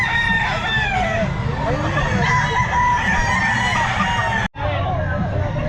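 A young rooster crows repeatedly amid the busy babble of a crowded pet market, the drawn-out calls rising over constant chatter and clucking from nearby fowl.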